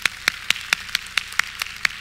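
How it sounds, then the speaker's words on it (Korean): Nine crisp, evenly spaced claps ring out in a steady rhythm, close and fairly quiet, like a single person clapping rather than a crowd. "본인으로 하시고 박수 주시기 바랍니다"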